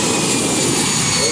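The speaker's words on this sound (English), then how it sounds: "So that's our Airbus clearing off." An Airbus airliner takes off at the Farnborough Airshow, its jet engines a loud, steady, broadband roar filling the short stretch without a break.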